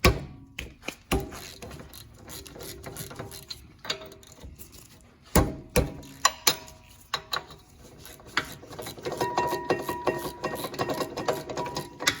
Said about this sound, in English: Since we're replacing the rotors, you got to remove the caliper bracket.